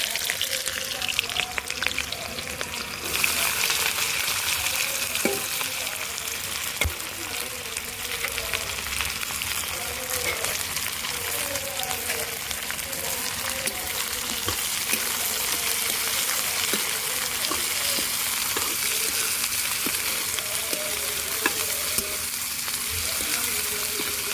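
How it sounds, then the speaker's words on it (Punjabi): Onions fry in a pan of oil with browned cumin for a Punjabi bhindi sabzi, giving a steady, close sizzle with faint clinks of stirring throughout. "ਇਸ ਤਰ੍ਹਾਂ ਪਿਆਜ਼ਾਂ ਨੂੰ ਅਸੀਂ ਭੁੰਨ ਲਾਂਗੇ ਜਦੋਂ ਤੱਕ ਕਿ ਹਲਕੇ ਬਰਾਊਨ ਨਾ ਹੋ ਜਾਣ"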